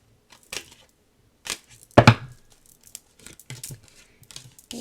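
Tarot cards being laid out one by one, a series of close, sharp snaps and papery slaps separated by short pauses, one louder flick near the middle, no voices.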